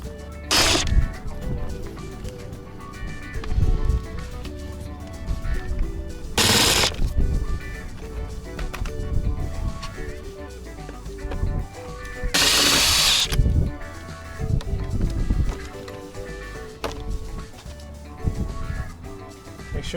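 A power drill works screws out of a car's interior door panel in a Toyota Century, with three short loud whirring bursts spaced through a stretch of quiet handling and clinking.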